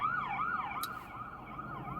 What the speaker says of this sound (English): You hear the little ambulance.